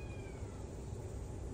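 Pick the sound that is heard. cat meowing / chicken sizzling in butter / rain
cat meowing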